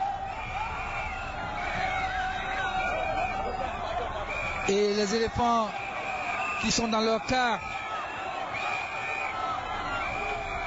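A large crowd of fans at Félix Houphouët-Boigny airport keeps up a constant, whistle-laced roar while welcoming the Ivory Coast Elephants football team, and a voice talks over it partway through.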